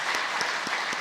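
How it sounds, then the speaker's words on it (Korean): Applause from a church congregation at an autumn special dawn prayer service, a steady wash of clapping with a few stronger beats, moderately loud and close for about a second. "크게 박수 한번 하도록 하겠습니다"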